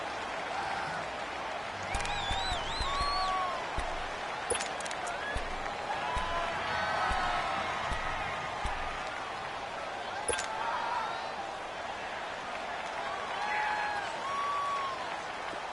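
Home stadium crowd roaring at a football game in a PS4 video game, a steady loud wash of cheering and noise kept up throughout, with scattered whistles and claps rising within it.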